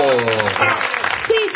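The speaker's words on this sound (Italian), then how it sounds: "Ci fate un applauso per favore, piccolino" Audience applause in an Italian pub during a live music night, a short burst of clapping with voices mixed in from the crowd.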